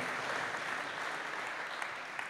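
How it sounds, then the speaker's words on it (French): Audience applause at a French business presentation, a steady dense wash of many hands clapping at moderate level throughout, with no voices over it. "on peut l'applaudir parce que c'est un beau challenge quand même"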